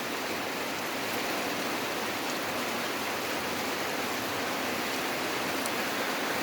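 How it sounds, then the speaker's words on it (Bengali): Steady rain falls at a fish farm, a dense even hiss of drops on surfaces, moderately faint and unbroken from start to finish. "বৃষ্টি হচ্ছে সেহেতু বাইরে যেতে পারতেছি না। এই যে দেখেন বৃষ্টি।"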